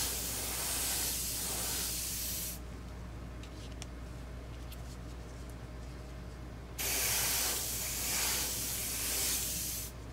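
An airbrush sprays paint onto a scale model. Two close, loud, steady hissing bursts are split by a quieter gap with a few faint clicks, and no talking.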